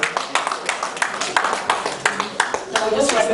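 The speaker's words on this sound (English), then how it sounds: "Let's give him a round of applause all the same." Audience applause at the inaugural convention of Nigerian sports journalists in the diaspora, a steady patter of claps with sharper individual hand claps standing out, fairly near and moderately loud, with a bit of voice mixed in.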